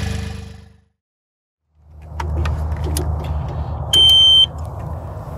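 An Avant loader powers on with a key, a low engine-like hum, then a steady high electronic warning beep sounds for about half a second over the drone.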